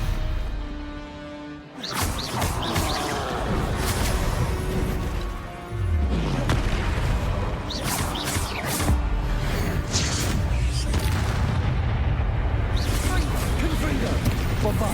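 Spell blasts from a Harry Potter video game, Confringo and Bombarda, sounding as repeated crashing, whooshing explosions with thuds, continuous and loud across the stretch.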